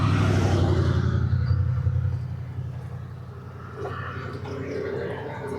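Electric golf cart powered by a 5kWh MidNite PowerFlo5 server rack battery driving away, a steady low motor hum and rolling rumble that fades slightly as it moves off, with no talk.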